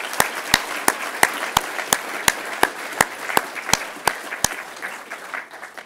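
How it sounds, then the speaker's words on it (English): Audience applause at a New Zealand open source awards event, heard as a steady patter of clapping. Sharp, regular claps ring out above the wash, and the whole fades toward the end. "I'll just say a round of applause for the judges"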